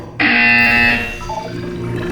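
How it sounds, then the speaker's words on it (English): A loud electronic buzzer from the video game Portal 2 sounds once, a harsh sustained tone lasting under a second before fading into a low background hum. "When you hear the buzzer, look down at the floor."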